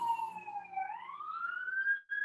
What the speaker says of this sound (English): Did you hear that siren?